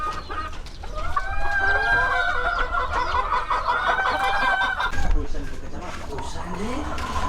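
Filipino chickens on a farm cluck steadily, with a few crows rising over the flock, all close and continuous throughout.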